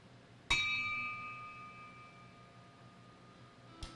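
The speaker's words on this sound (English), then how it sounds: "J. Hsu, Larry L. Tomier, and the final bell that I want to ring is for all of the Vietnam era veterans" A memorial bell at a ceremony honouring fallen Vietnam-era veterans rings once, loud and clear, with a long fading tone, followed near the end by the onset of a second strike.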